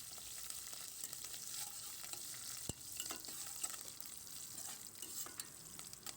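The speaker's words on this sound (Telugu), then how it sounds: "కొంచెం మినపప్పు, జీలకర్ర, ఆవాలు, ఎండుమిర్చి, కరివేపాకు, కొంచెం ఇంగువ వేసుకుని ఈ పోపుని కాస్త దోరగా వేయించుకోవాలి" A tempering of garlic, urad dal, cumin, mustard seeds, dried red chillies, curry leaves and asafoetida fries in hot oil, giving a quiet, steady sizzle with soft stirring scrapes and one sharp tap against the pan.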